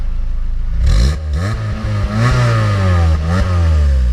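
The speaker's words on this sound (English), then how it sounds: "Go ahead and rev it up just a little bit." A 2005 Lotus Elise with 24k miles revs in a few short, rising blips that fall back to a steady idle between them, close and clear with no talk over it.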